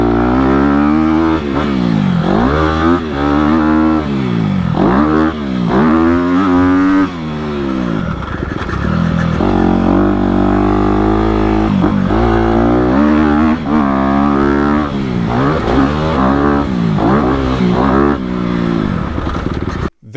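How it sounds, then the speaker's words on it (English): A 2020 Honda CRF250RX dirt bike ridden slowly in first gear over technical terrain, its engine loud and close with repeated low-RPM blips and revs that rise and fall throughout. "first gear, seeing how much this bike stalls, how it rides in the low RPM"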